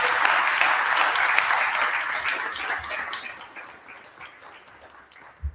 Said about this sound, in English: if everyone wants to give a round of applause for everyone who came and prepared their talk